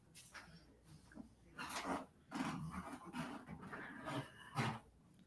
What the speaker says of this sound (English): she's just such a calm dog.